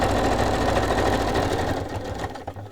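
A sewing machine stitches around printed tracing paper on cardstock, a close, rapid, even whirring that runs steadily and then slows and trails off near the end.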